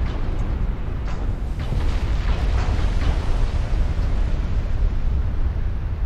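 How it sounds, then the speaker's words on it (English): Battleship secondary guns, 6-inch and 5.9-inch, firing at a destroyer in Ultimate Admiral Dreadnoughts, a steady rumbling wash of distant naval gunfire and booms with no clear single shots. "battleship secondaries firing at the DD"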